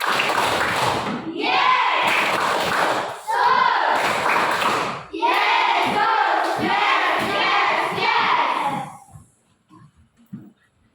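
A class of children does a rhythmic clapping chant together, loud in-unison claps and voices in repeated bursts, then the room falls quiet.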